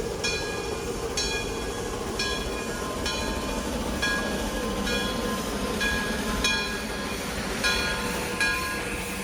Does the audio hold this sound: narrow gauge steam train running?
yes